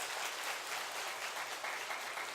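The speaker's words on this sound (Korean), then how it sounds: "박수 크게 한번 쳐주세요." A church congregation at a Sunday service applauds, a dense, even wash of many hands clapping at once, heard from a slight distance and holding steady throughout.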